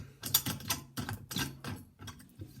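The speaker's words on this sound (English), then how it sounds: "Handle itself has got like a rod that goes through the wooden handle into here that you screw on, and you can unscrew it as well" A metal rod inside the wooden handle of a Coolina Excuto pan is unscrewed, giving a close series of irregular dry clicks and ratchety rattles with short pauses between them.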